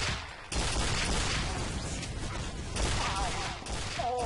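An explosion in Team Fortress 2 erupts half a second in as a loud, rumbling blast, followed by several seconds of sustained, crackling roar like rapid gunfire or debris.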